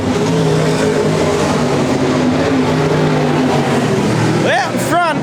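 V8 dirt modified race cars at a state title race, a loud, continuous engine roar as cars pass, with a commentator talking over it and rising whines of cars accelerating near the end.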